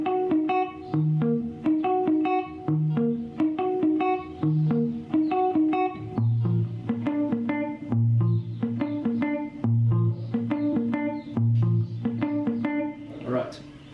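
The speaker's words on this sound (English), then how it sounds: "the last thing I'll show you is basically playing an arpeggio with the chords" Electric guitar picks arpeggiated chords note by note in a steady repeating rhythm, played through an effects unit with a slight chorus and echo shimmer, close and clear with no talking over it.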